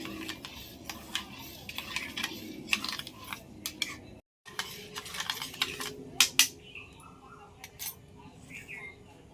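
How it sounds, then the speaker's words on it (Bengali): Biscuit dough ingredients with sugar being stirred together in a bowl, spoon scraping and clinking against the sides in quick irregular strokes, close and moderately loud, with a brief pause midway. "এগুলো সব একসাথে একটু এইভাবে মিশিয়ে নেব"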